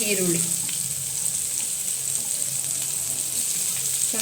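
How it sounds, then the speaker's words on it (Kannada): Onions frying in hot oil with ginger and garlic, a steady loud sizzle and crackle throughout, alone without talk. "ಈರುಳ್ಳಿನ ಹಾಕೊಂಡೆ. ಇದನ್ನ ಚೆನ್ನಾಗಿ ಫ್ರೈ ಮಾಡ್ಕೋಬೇಕು."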